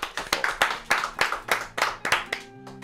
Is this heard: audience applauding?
yes